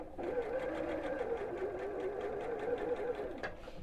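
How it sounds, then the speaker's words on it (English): A sewing machine stitching around in a circle, giving a steady close whirring hum with a fast rapid needle pulse that runs without a break, then eases slightly near the end. "So just again, sew around in a circle."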